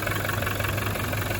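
A 2021 Toyota Hilux 4WD diesel engine idles steadily and loudly up close, a continuous rumble with a slight knocking, shaking vibration.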